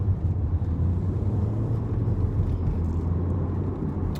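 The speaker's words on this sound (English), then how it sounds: "be quite a lot of traffic this evening, considering it's nearly 7 PM now" Evening road traffic passing on a Friday around 7 PM, a continuous low rumble of cars with a steady engine drone, moderately close, no talking.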